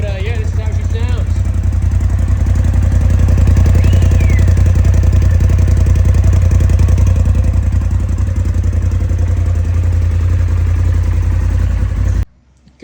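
A 2021 Polaris RZR Turbo S fitted with a Trinity exhaust idling while warming up, a loud, deep, steady rumble close by that cuts off abruptly near the end, with a voice heard over it.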